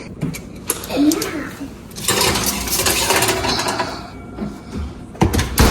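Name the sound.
tray of nachos being put into the oven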